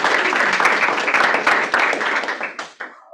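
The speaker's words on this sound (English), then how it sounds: "let's give her a round of applause" A meeting audience at a stakeholder gathering claps for an honoree, loud and dense at first, then thinning into scattered individual claps before fading out.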